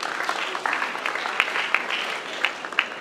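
An audience at a French-language student debating final claps together, a dense, medium-loud patter of many hands with a few sharper individual claps standing out.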